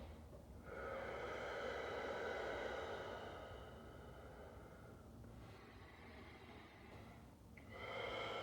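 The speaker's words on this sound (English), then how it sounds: "it's just these big inhales, these steady exhales" Slow, deep breathing close up: a long airy inhale followed by steady exhales, quiet and unhurried with no talking.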